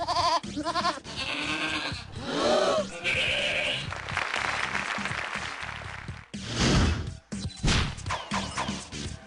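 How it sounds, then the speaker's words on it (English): Singing goat from the video game You Don't Know Jack: a series of loud, wavering bleats strung into a comic tune, broken by crashing and thumping effects, close and prominent with no talk. "a singing goat would be a real tragedy of a gift"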